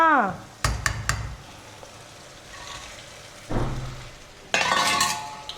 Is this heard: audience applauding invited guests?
no